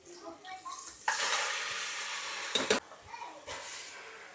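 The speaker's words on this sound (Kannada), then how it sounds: "ಮಟನ್ ಹಾಕ್ತೀನಿ." Mutton drops into a pan of frying onion, ginger and garlic paste, setting off a sudden hissing sizzle with a few clatters and stirring scrapes midway; soft talk is heard before and around it.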